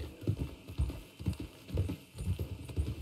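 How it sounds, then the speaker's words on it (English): Horse hooves clip-clopping in Red Dead Redemption 2 on the WildRP roleplay server, a steady rhythmic walking gait of repeated low thuds in pairs, close and clear throughout with no talking. "And Stephen's ever such a nice horse"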